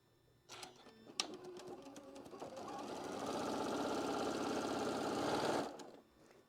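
A sewing machine chain-pieces quilt blocks with a scant quarter-inch seam, starting with a few soft clicks and taps, then a rapid, steady stitching rattle that builds and runs for several seconds before stopping abruptly.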